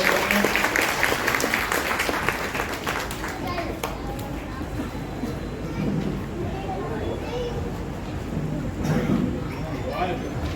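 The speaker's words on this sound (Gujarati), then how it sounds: "જોરદાર તાળીઓના ગણગણાટ સાથે વધાવી રહ્યા છે" At a family reunion and student felicitation gathering in Surat, an audience claps in a dense, sustained burst that gradually thins, while voices murmur underneath.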